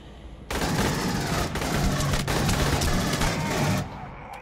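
Automatic weapon fire in the video game Aliens Colonial Marines erupts in a loud, continuous burst lasting about three seconds, with a couple of tiny breaks, then cuts off abruptly.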